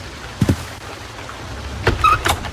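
A desk drawer with a key inside slides shut in the Sherlock Holmes: The Case of the Silver Earring adventure game, giving a pair of short wooden knocks early, then a louder slide-and-thud with a small clink near the end.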